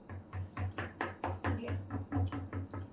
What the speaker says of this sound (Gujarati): હવે ચમચીની મદદથી કાણા પાડી દઈશું